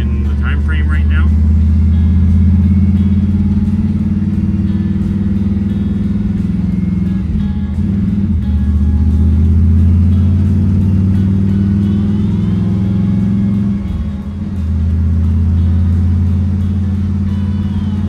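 A 1959 Dodge car's engine rumbles loud and close on its first drive, a steady deep drone throughout with brief pitch dips as it eases off and comes back on.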